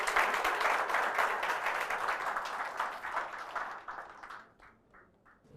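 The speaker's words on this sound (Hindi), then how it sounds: "प्रतीक नायक सर का अच्छी तालियों के साथ आप सभी लोग स्वागत करें।" Audience applause welcoming a speaker at a UPSC IAS preparation event, a dense wash of clapping that gradually thins out and fades toward the end.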